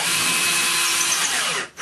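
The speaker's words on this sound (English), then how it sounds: "Now if I drill back onto the line," Power drill boring into a hollow cavity wall, a steady loud whine running continuously and stopping abruptly near the end.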